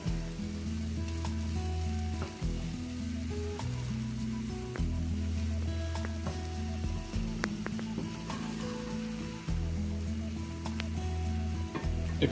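Eggs for an egg scramble sizzling in a pan while being gently stirred, a steady frying hiss broken by soft scraping strokes of the utensil, close and fairly quiet.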